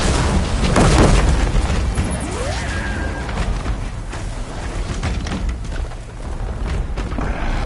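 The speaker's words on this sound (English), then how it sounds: "I gotta shoot those cannons off the dead Ravagers." Ravager cannons fire in the Horizon video game, opening with a heavy booming blast and followed by a dense, sustained rumble of crashing, explosive noise that stays loud throughout.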